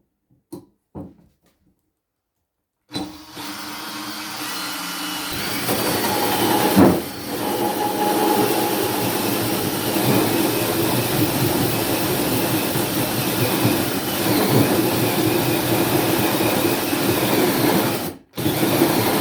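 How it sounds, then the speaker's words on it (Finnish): After a few light clicks and a pause, a drill with a hole saw spins up into a steady grinding whine as it cuts through a plexiglass sheet, running continuously before abruptly stopping. "siitäpä sitten porataan läpi reikä tuohon pleksiin"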